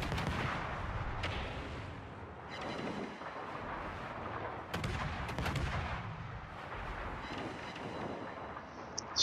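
Heavy ship guns fire in World of Warships, booming in a dense run of loud blasts and rumbling explosions as shells hit an enemy ship's superstructure.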